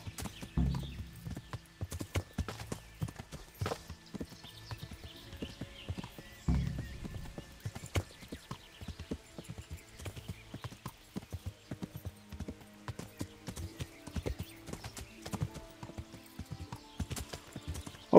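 Horse hooves clip-clopping steadily with a whinny in the Kingdom Come: Deliverance video game, near a bandit camp, quiet and continuous with occasional louder thuds.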